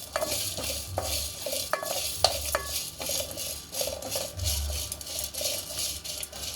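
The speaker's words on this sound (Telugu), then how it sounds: "మనం ఇందులోకి కొన్ని ధనియాలు కూడా వేసేసుకొని వేయించేసుకుందాం" Coconut and coriander seeds roasting in a pan for stuffed brinjal curry, stirred with a metal spoon: soft sizzling with repeated scraping and clinking strokes against the pan, fairly close.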